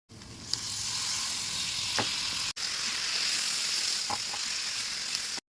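Chicken coated in ginger garlic paste and turmeric sizzles loudly and steadily in a pan, with a few faint stirring taps and a brief cut midway, no speech.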